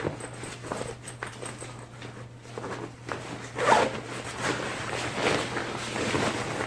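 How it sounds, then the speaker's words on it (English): A zip on an Ozark Trail Montpelier 45L backpack being undone, close and fairly loud, a run of quick ratcheting zip strokes with a stronger pull midway. "there is a zip, and if you undo that zip,"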